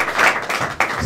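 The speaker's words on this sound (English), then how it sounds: "Round of applause for the two guys." Brief applause from a crowd at a press conference after a football match, a short burst of clapping heard up close for about a second.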